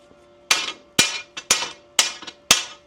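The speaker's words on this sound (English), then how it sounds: "I'm going to kind of take some of that slag off there" Sharp metallic chipping on weld slag on a snapped axle support, six evenly spaced ringing hits roughly every half second, close and loud with a few lighter taps between.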